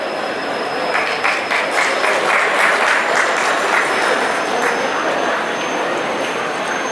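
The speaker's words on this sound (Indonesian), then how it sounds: "kita kembali berikan tepuk tangan yang meriah untuk Bapak Panji Cahyanto" An audience at a PGRI regional board inauguration ceremony in South Sumatra claps, sustained dense applause rising and holding steady throughout, fairly distant and uninterrupted by speech.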